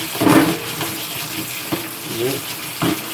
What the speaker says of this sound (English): So let's wash spatula.